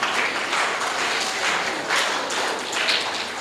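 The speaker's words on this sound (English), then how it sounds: "A round of applause for her, please" An audience at a World Mental Health Day event gives a steady round of applause, dense overlapping claps sustained at an even level throughout.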